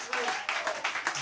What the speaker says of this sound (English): give that man a hand of applause,